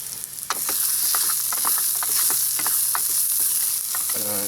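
Onions fry in a mess kit pan over a camp fire with a steady, loud sizzle that fills the whole stretch. A few soft scrapes of stirring sound underneath.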